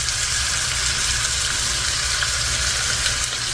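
Tomatoes and green onions, salted and peppered, frying in a skillet for a breakfast frittata, giving a loud, steady, dense sizzle that holds unbroken throughout, with no talk.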